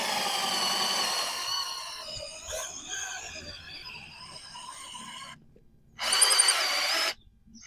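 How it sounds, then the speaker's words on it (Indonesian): A Zentor 12V cordless drill in drilling mode whines steadily at close range, its pitch wavering under load, then drops off before a short, sharp final burst of high-speed spinning. "Kita langsung bor aja ya."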